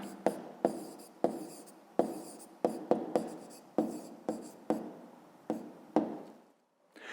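A pen writes an answer by hand in a close, quiet series of about a dozen short scratching strokes with brief gaps, as in a fifth-grade maths exercise.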